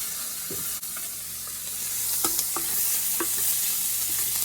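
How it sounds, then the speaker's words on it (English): Butter melting in a hot pan with the heat turned off, being stirred around, makes a steady soft sizzle with a few scraping strokes, close up and without talk. "Melt your butter."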